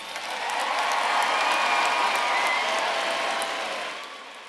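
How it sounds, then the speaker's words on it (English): A commencement crowd applauds its graduates: a steady, dense wash of clapping with faint cheers, swelling quickly and holding before tapering off slightly at the end. "Let's give our graduates a round of applause."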